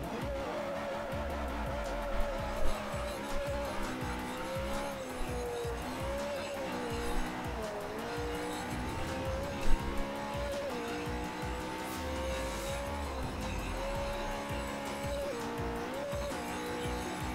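Car tyres squealing in the Forza 4 racing game while lapping a circuit to test handling after tuning: a steady engine drone with wavering tyre screech running throughout, a few brief louder knocks, no talk.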